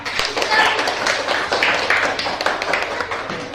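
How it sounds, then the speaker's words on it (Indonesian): A classroom of students clapping for group 5, a dense, continuous patter of many hands at fairly close range, steady and unbroken through the whole stretch. "Tepuk tangan buat kelompok 5 ayo"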